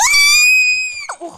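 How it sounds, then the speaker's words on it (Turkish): A person lets out a long, loud, high-pitched scream while playing a Roblox speed-runner game, the cry holding steady for about a second before breaking off into a short vocal sound. "Bağırarak yaptım hem de."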